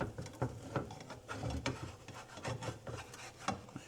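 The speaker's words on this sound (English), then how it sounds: "Kind of scrape it off on the side, and then from there it gets really easy. Just have to go under the crepe." A spatula scraping under a crepe on a pan makes quiet, rough rasping strokes that come in short irregular bursts, close by and with no voices.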